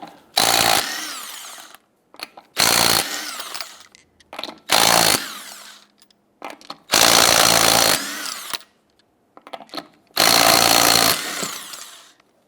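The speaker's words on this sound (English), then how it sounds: "Using a 19mm socket, go ahead, loosen and remove your lug nuts" An impact gun with a 19mm socket zips off the lug nuts of a 1997-2006 Jeep Wrangler wheel in five loud, close buzzing bursts, each about a second long, with brief pauses and small clunks between them.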